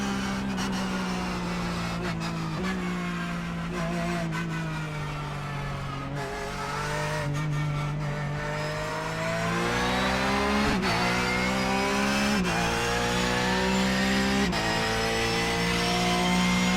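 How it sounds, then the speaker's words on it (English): A Porsche 911 GT3 Cup race car engine in the iRacing simulator drones steadily, with a high, tonal transmission whine rising and falling as it shifts, sustained and fairly close throughout. "A lot of transmission whines."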